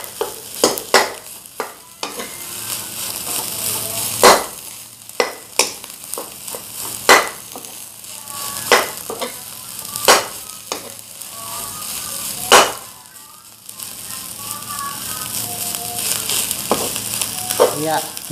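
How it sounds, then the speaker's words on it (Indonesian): Fried rice with oncom, lenca, petai and basil leaves tossed in a hot pan, a continuous sizzle under regular sharp scrapes and knocks of a spatula, close and busy, with no voices. "Nasinya kita aduk rata biar kecampur dengan oncom, lenca, pete, daun kemangi."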